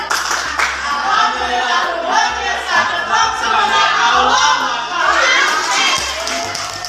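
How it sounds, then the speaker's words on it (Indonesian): Classroom group of students doing a rhythmic spirit clap, loud and continuous, mixed with children's voices and crowd chatter throughout. "Kelompok 3 jangan mau kalah, ya. Tepuk semangat."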